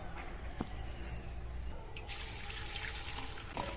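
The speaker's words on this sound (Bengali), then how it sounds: "2-3 বার জল দিয়ে ধুয়ে নেব।" Okra being washed under a running kitchen tap, a continuous close stream of water with splashing and a few clinks from handling the vegetables, no voices.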